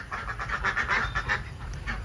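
F1 ducks quack continuously in a close, busy flock, their nasal calls overlapping in a dense, steady chorus over a low farmyard rumble.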